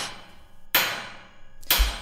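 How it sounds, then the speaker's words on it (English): Hammer hitting nails: two sharp, loud metallic strikes about a second apart, each ringing briefly before fading, with quiet between them. "all I have to do is shoot these nails to hit them with my hammer"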